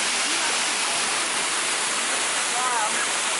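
The waterfall at Hanging Rock pours in a dense, loud, unbroken roar close by, steady throughout with no pauses.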